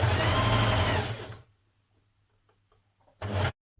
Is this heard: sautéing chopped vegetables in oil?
no